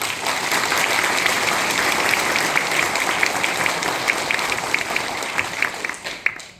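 Loud, dense applause fills a hall at a Korean police day anniversary ceremony as association members and chairpersons are honored, sustained evenly and then tapering off near the end.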